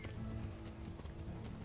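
Horse hooves clip-clopping at a gallop in the medieval video game Kingdom Come: Deliverance, a steady rhythmic beat under low game ambience and a faint whinny.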